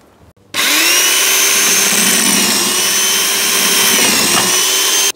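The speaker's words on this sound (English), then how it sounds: "So now we've drilled that side out" A power drill bores out a seized tailgate hinge bolt on a Smart ForTwo. It starts abruptly and holds a steady, loud, high-pitched whine for about four and a half seconds, close up, with no talking.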